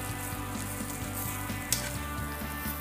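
Stuffed mushroom caps sizzle steadily as they brown in a hot pan, a close, even crackle with one sharp pop partway through.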